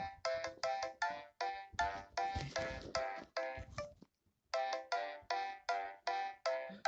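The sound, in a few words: Samsung MIDI ringtone playing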